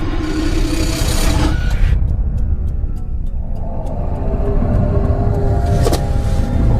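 A car engine rumbles steadily as the vehicle rolls along, with the low drone continuing throughout and a brief whirring shift partway through; no one speaks.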